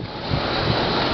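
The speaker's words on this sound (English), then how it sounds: "It's pretty windy out." Wind rushes loudly and steadily against the microphone, a dense broadband roar with no pauses.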